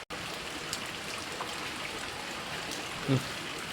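Rain falls in a steady, even patter all the way through, with a brief dull knock near the end and no voices.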